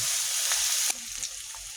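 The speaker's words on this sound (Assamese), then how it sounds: "এতিয়া মোৰ পিঁয়াজখিনি ভজা হৈ গ'ল আৰু ইয়াতে মই আদা নহৰু অলপ দি দিছোঁ।" Onions frying in a pan with ginger and garlic just added for a carrot masoor dal, giving a steady soft sizzle with a few faint stirring clicks, alone and close.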